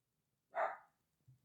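Alfred, a small guard dog, gives one sharp bark in a quiet room, followed by a faint, low sound a moment later.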